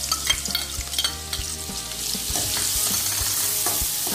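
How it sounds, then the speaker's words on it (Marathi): Chopped onions hit hot oil in a kadai and fry with a steady close sizzle, while a spoon scrapes and stirs in irregular knocks and clatters over a broad hiss that swells through the second half. "आता आपण त्याच्यात कांदा घालून घ्यायचा आहे।"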